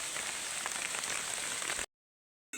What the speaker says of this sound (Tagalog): Inabot na po tayo ng ulan.